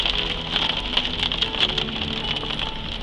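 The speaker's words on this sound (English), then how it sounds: "It stopped raining." Steady rain falling outdoors during a thunderstorm, a dense, even hiss of drops on surfaces with scattered louder patters, continuous and fairly close, with no talking.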